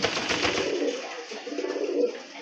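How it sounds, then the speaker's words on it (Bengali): A lively racer pigeon coos in low, throaty, rolling calls, close and fairly loud, repeating through the moment with some background noise and no clear talking. "তেজি কবুতর মাশাআল্লাহ, ছেড়ে দেন ভাই, ডাকতেছে, ডাকবে এখন"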